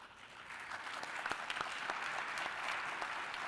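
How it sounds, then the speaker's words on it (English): An audience at the 2025 UN Public Service Forum plenary applauds its panelists, a soft, distant wash of clapping that builds slightly and holds steady. "well-deserved round of applause."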